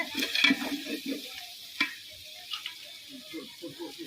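Mutton going into a pot for home-style biryani, with stirring scrapes and soft sizzling frying, punctuated by a sharp clank near the middle, moderately close; brief low voice fragments are faintly present.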